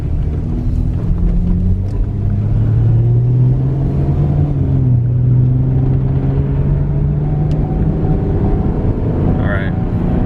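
Chevy Equinox AWD driving off and speeding up, with a steady low engine and road rumble throughout and a voice talking over it.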